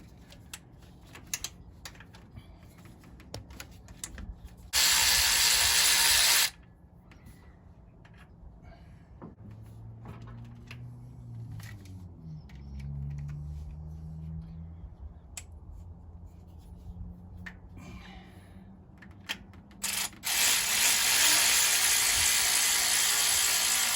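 Ratchet wrench turning a bolt on the fuel pump of a 1966 Buick Wildcat, giving a steady run of quick, close clicks, with two louder bursts of broadband noise partway through and again near the end.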